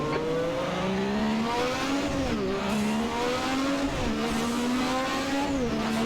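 A McLaren MP4/4 Formula One race car in Assetto Corsa roars continuously at close range, its engine pitch climbing through the gears, dipping at shifts and rising again as the car accelerates.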